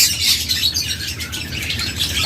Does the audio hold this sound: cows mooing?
no